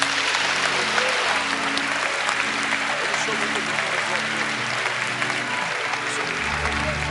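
Church congregation applauding the Lord, a dense, sustained wash of clapping from many hands filling the room at an even level throughout, with some voices mixed in.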